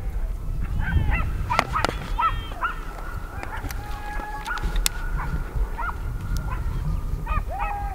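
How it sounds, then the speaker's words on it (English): A hunting dog barks repeatedly during a deer hunt in the Valle de Alcudia, the barks somewhat distant among other yelps and calls over steady outdoor background noise. "It's got a dog right behind it."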